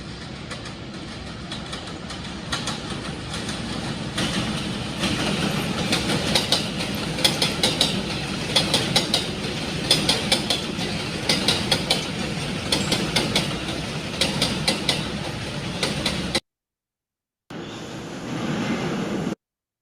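A Z train rolls past near Willits at sunrise with a steady, loud, broadband rumble and rhythmic clickety-clack of wheels over rail joints, cutting out briefly before resuming.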